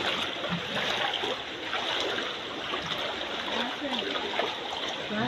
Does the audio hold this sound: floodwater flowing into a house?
yes